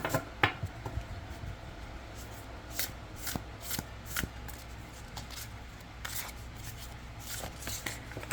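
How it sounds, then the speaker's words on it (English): A tarot deck from the Folklore Oracle set is riffle shuffled by hand several times, its quick fluttering bursts of card riffles close and fairly quiet against a soft background, with no talking. "riffle shuffle the deck"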